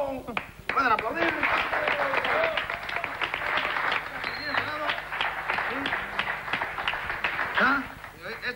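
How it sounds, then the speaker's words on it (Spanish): Studio audience applause on a Spanish-language TV show, a sustained wash of many hands clapping with voices talking and calling out over it. "¿Pueden aplaudir?"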